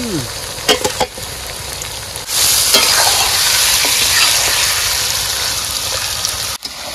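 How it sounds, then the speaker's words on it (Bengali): Marinated meat sizzles and is stirred in a pan: a few scraping clinks at first, then the frying surges loud and continuous, with spatula scrapes breaking through near the end. "পেঁয়াজ ভাজা হয়ে গেছে, মাংস দিয়ে দেবো।"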